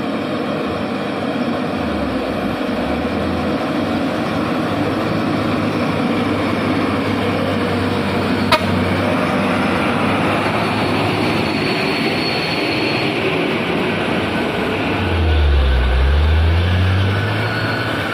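Hino FM 235 JD and Fuso HD 220 PS trucks grinding up a steep hill, a continuous loud diesel drone with deep low rumble that swells near the end as a truck passes close.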